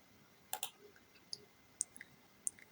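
Faint mouse clicks on a computer, a few sharp taps spaced irregularly over a quiet background with no talking.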